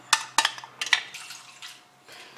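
Water poured into a dough mixture during home cooking, a few short splashy bursts early on followed by softer trickling and faint kitchen clatter, close and with no talk.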